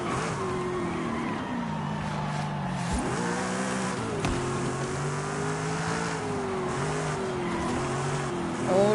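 A Honda car races in a video game, its engine droning loudly and continuously with rising and falling revs, gear-shift dips and brief tire squeal, and nothing else competing.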